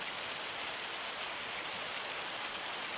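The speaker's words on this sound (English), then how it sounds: "So yeah, hail." Hail falling steadily in the video game Farming Simulator 25, a dense, even hiss of pelting ice that stays constant and fairly soft, with no voices.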